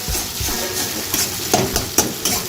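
Egg and spices are stirred in a hot frying pan for tadka, with steady loud sizzling and a few spatula scrapes and taps against the pan.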